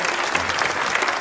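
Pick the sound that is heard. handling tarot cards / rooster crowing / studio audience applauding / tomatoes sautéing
studio audience applauding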